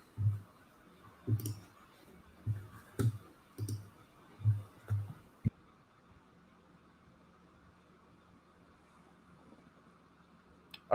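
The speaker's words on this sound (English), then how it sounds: "just because I'm typing, I don't want to bash on the keys" Computer keyboard keys tapped lightly during a live watch session, a series of soft separate clicks in the first half, then quiet.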